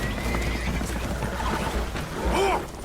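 In Red Dead Redemption 2, a spooked horse whinnies shrilly near the end over a constant rush of water and rumbling as a boat takes on water, with hooves stamping in the noisy background.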